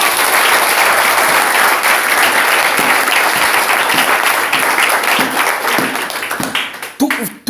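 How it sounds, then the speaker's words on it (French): A church congregation applauds at a worship service, loud continuous clapping that fills the room before thinning and breaking off near the end as a voice cuts in. "Applaudissez pour le Saint-Esprit."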